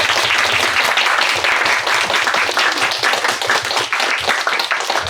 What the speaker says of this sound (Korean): 너무나도 성실하게 답변해주신 우리 하늘 감독님과 경규 PD님한테 큰 박수 부탁드립니다.